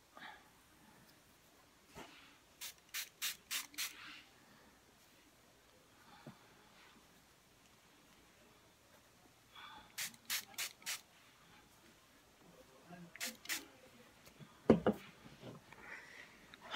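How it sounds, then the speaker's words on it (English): Three bursts of quick hairspray spritzes on hair ends, each a rapid run of four or five short hisses, close by with quiet gaps between. "do I need any more spray on the ends?"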